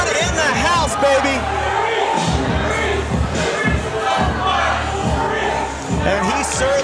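A packed wrestling crowd in Birmingham, England roars and chants continuously, dense cheering and whoops sustained at full volume throughout with rhythmic swells.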